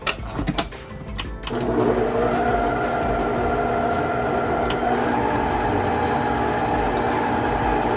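Stand mixer pulsing red velvet pound cake batter after flour-cocoa mixture and egg white are added, a steady motor whir starting after a few brief clatters and running on without talk.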